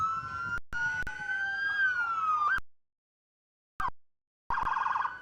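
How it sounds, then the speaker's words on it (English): A loud emergency vehicle siren at a county fair parade wails with rising and falling tones, cuts out briefly, then returns with a rapid warbling yelp. "We have more Lee County sirens."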